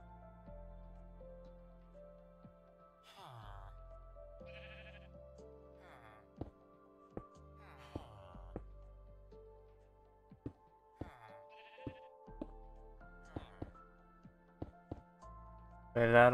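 Sheep bleat repeatedly in the video game Minecraft near a desert village, short separate calls scattered over a background of game music and light tapping clicks.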